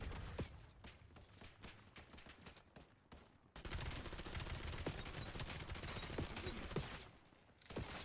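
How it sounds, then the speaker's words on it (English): Rapid automated turret fire mowing down a zombie horde in Black Ops 7, dense continuous bursts of gunfire that pause briefly, then resume louder and sustained. "See, that turret just took out that entire horde."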